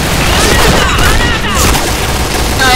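Grenade blast amid continuous gunfire in the online shooter Point Blank, a dense, loud, steady barrage of shots and booms with overlapping bursts.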